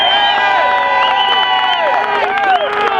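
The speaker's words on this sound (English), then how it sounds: "Seriously, it's the biggest crowd." A large crowd at a Tommy Robinson campaign rally in Preston: many voices shouting and cheering together in a loud, steady roar, with overlapping raised calls rising and falling throughout.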